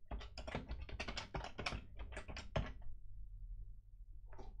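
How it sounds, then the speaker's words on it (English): Rapid, close clicking of keys as a password is typed on a computer keyboard, a quick burst of keystrokes followed by a short pause and a final key press. "type in the password."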